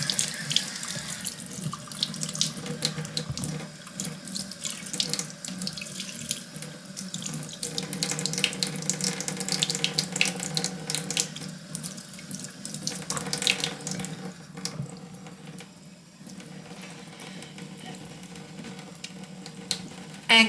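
Tap water runs steadily into a sink while a makeup brush is rinsed under the stream, a continuous close splashing that shifts in texture as the brush moves, with no talking.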